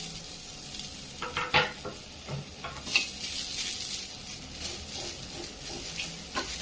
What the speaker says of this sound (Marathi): त्यावर कांदा भाजून घेऊया